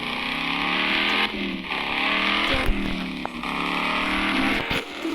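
A car in Car For Sale Simulator drives and accelerates, its engine note rising in repeated climbs between gear shifts, loud and close, with a few clunks along the way.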